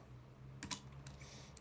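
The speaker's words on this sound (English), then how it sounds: "So you can start by typing public class" Java code is typed on a computer keyboard, a few quick close key clicks in a short burst over quiet background hum.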